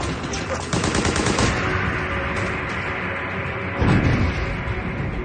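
Rapid machine-gun bursts and sniper shots crack through a Vimy Ridge battle reenactment, dense overlapping gunfire running steadily throughout, with a heavier burst near the end.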